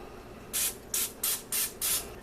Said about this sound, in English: Now I'm going to lightly spray the tops with some non-stick cooking spray.